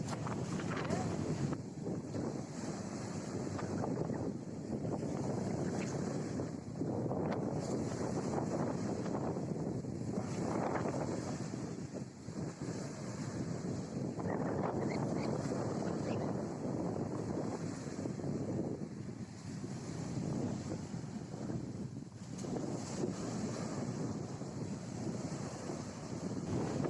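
Stormy sea waves surge and crash while strong wind buffets the microphone, a continuous loud wash of surf and gusts lasting throughout.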